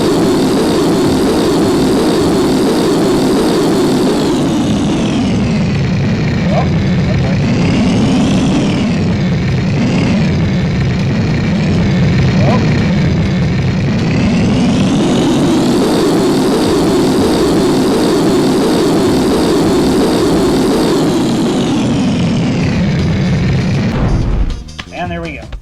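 Loud, steady airplane engine drone from the video game Sheep, Dog n Wolf, rising and falling in pitch as the plane maneuvers, continuous throughout with a brief cutoff at the very end.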